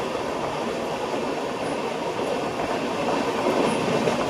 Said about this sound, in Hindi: हाँ, मालवा सुपरफास्ट एक्सप्रेस है ये।